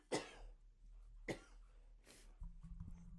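Several distinct coughs, a sharp one at the start, another partway through and a softer throat-clearing burst after, close and fairly loud, then low background rumble at the end; no talking.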